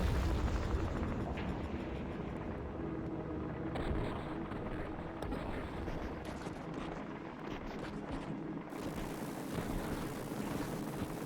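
Missile launch and explosion in the city-defense video game Utopia Must Fall, a dense continuous roaring rumble that stays loud throughout with a deep low-end boom, no voices over it.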